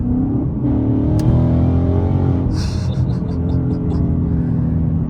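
A Ford Mustang in Sport Plus mode blips its engine loudly on a paddle-shift downshift, the revs surging and dropping over a steady close-up drone.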